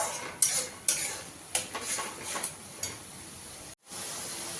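A spoon scrapes and taps against a pan while masala with yogurt is stirred and fried for a chicken dish, giving a few sharp close clinks over a faint steady hiss.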